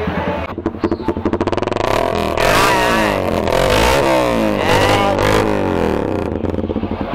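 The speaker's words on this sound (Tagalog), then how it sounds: "Grabe yung tunog ng GSX." Suzuki GSX motorcycle engine revving nearby, starting from a rapid idle putter, then swelling into repeated loud throttle blips and sustained roars before settling back to a fast idle.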